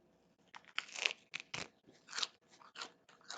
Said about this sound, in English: Let's taste this lettuce.